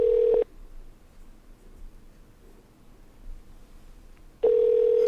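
A telephone call to a 507 area code number rings out, with two loud ring tones on the line, one at the start and one at the end, separated by a long stretch of quiet hiss.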